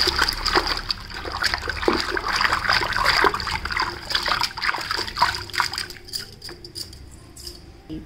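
A pure cotton saree is soaked and worked in a tub of cornflour starch water, giving close splashing, sloshing and dribbling that grows sparser toward the end.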